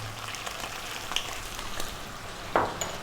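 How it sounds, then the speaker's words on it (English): Sliced onions hit a hot pan for a Thai beef red curry, giving a close, crackling sizzle with scattered pops and a louder burst of spattering near the end. "we're now gonna add in 2 cups of onions sliced."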